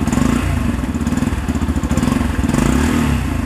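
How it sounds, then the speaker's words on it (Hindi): Close, loud idle of a 2021 Yamaha FZ-X 150cc BS6 motorcycle, a steady low, throbbing exhaust burble with an even pulsing rhythm and no revving. "And the exhaust note of this bike is really nice."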